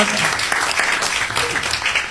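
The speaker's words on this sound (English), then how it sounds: "that's the best applause I've ever had" Studio audience applauding Rick Wakeman in a radio studio, a steady dense clapping that stays loud and even from start to finish.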